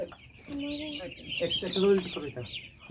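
Farm chickens clucking nearby while being handled for vaccination, short throaty clucks and squawks bunched together, with a person speaking close by.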